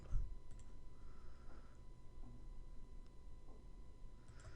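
Computer mouse clicks during software work at a desk, a few faint, sparse clicks over a steady low hum, close by and quiet.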